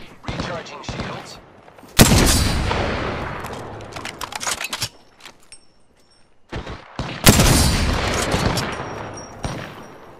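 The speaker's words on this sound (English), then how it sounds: "There may be a shooter nearby. I am taking fire, friends." Apex Legends gunfire on the Kings Canyon map, with two loud, sustained bursts of rapid automatic shots and booming impacts, separated by a short lull.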